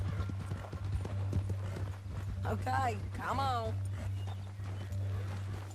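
Steady horse hooves clip-clopping at a walking pace in Red Dead Redemption 2, with a low constant hum and a voice speaking briefly over it.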